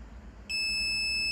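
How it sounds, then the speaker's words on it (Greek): Cordless GeHock pruning shears give a clear, high electronic beep that starts suddenly and holds steadily over a low background hum. "Θα πρέπει να κλείσουμε και να ακούσουμε 3 μπιπ."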